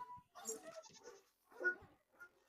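Goats on a farm bleat in a few short, wavering calls close by, with two main bursts separated by a brief pause as the scattered animals call to each other.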